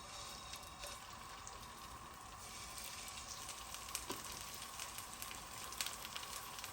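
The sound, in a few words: chicken shallow frying in oil in a pan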